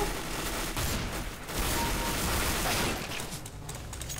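Gunfire in Counter-Strike: Global Offensive comes as dense bursts of rapid shots and impacts, loud and continuous over the whole stretch with no clear talking.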